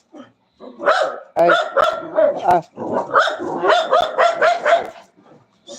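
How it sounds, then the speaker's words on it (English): Several dogs barking and yipping in a home, repeated bursts of barks close by and fairly loud, with a voice talking briefly over them. "I'm sorry about my dogs. I can't control them."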